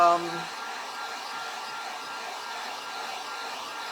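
A hair dryer blows in a steady, even whoosh to dry a paint brush, starting with a short louder burst and then holding a constant hum.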